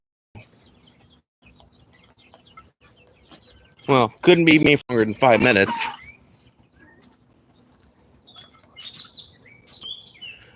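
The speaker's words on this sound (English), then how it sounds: "One of our Bantam roosters has finally gotten old enough to start crowing, and he sounds so cute." A young Bantam rooster lets out a short, high, thin crow in a few quick bursts, fairly close and clear, with a person talking quietly before and after it.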